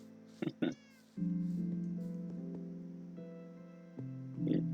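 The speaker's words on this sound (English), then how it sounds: "I think this cat just teleports to us every time I go to sleep." Cat meowing in a video game: two short, close meows at the start, then a steady droning ambient tone with a faint later mew over it.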